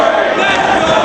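A crowd of 1,500 cheering at a Ring of Honor wrestling event, a steady, loud wash of voices and cheers filling the arena.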